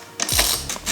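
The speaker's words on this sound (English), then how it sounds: "Once we get that loose, we'll loosen up our 10mm pinch bolts." Ratchet working a 10mm pinch bolt on a dirt bike fork: a short burst of quick metallic clicks, close and moderately loud, alone in about a second.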